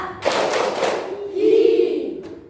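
Children in a classroom clap in unison, a loud rhythmic burst of hands early on that fades and then gives way to a sustained tone, with a faint later clap.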